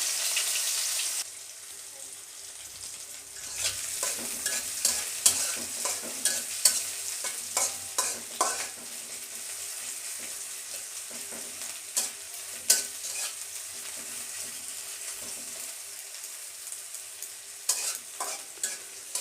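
Chopped onions fry with cumin seeds in a pan, a soft sizzle under frequent clattering stirs and scrapes of a spoon that come in irregular bursts over a long stretch, without speech.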